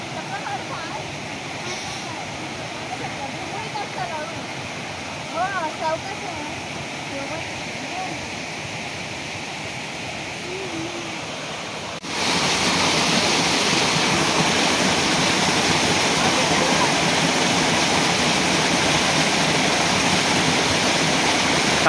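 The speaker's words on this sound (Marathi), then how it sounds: "तर बघा इकडे पाठी धबधबा आहे" Waterfall at Sonavade village in Kudal taluka, at the foot of the Sahyadri hills, with strong water flow. A steady roar is heard first from a distance and then, halfway through, much louder and closer.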